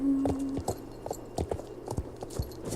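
Horse hooves clip-clop in the video game Star Stable Online, a steady walking rhythm of crisp, evenly spaced hoof strikes over a soft ambient background, with no one talking.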